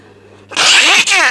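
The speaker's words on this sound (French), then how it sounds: "Et ben j'en éternue de plaisir." One loud, close sneeze bursts out in two quick parts after a moment of near silence.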